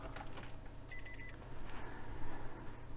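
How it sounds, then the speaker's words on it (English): Continuity tester beeping while probing connector pins on a Revox A77 reel-to-reel tape recorder, one short high electronic tone lasting under half a second over faint background hum. "Let's beep this."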